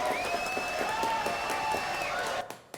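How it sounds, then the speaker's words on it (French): A French TV studio audience applauds three guests on a cleaning show, steady crowd clapping at moderate level throughout, with a faint tonal hum beneath that cuts off at the end. "Applaudissements pour vous, hein, pour mes 3 invités."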